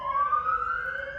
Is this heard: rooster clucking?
no